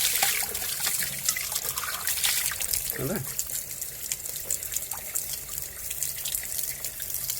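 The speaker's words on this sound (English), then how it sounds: "Just got to turn the water on." Water runs from a kitchen tap into a sink in a steady, close splashing hiss while cleaning a coffee grinder, with a brief spoken voice partway through.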